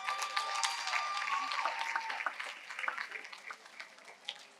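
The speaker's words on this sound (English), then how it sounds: "Please applaud them." An audience at a university commencement ceremony claps steadily, a dense patter of many hands that gradually thins out.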